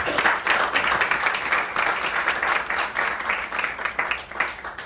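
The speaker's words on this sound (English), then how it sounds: "Round of applause." Audience applause at a marketing mastermind presentation, a steady wash of many hands clapping that carries through the whole stretch at moderate loudness with no talk over it.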